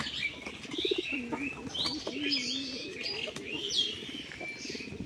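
Pigeons at a loft in Manikganj, Bangladesh, squabble over food, with repeated low coos, sharp chirps and bursts of wing flapping close by over steady background noise.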